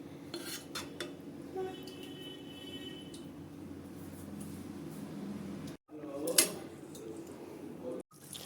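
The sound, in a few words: stirring jackfruit koftas in a pan and covering it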